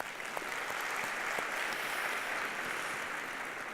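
Sustained applause from a conference audience at a healthcare quality and safety forum, steady and moderately distant, filling the room without a break and with no voices on top.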